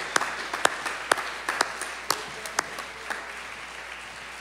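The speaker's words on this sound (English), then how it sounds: "How about a hand clap for Jesus?" A small audience at a worship session claps in scattered, uneven bursts, individual hand claps sharp and distinct against a quiet room.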